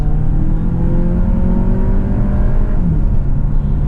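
A Volkswagen Tiguan Allspace with a 2.0 TSI engine and 4Motion DSG7 gearbox pulls strongly in normal mode, a steady engine drone rising in pitch before a brief shift near the end, heard loud and close from inside.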